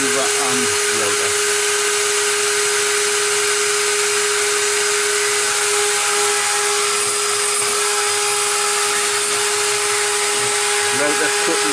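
A Hoover vacuum cleaner and a Stepcraft CNC router run together indoors at home, making a steady, loud broadband whir with a constant tonal hum throughout.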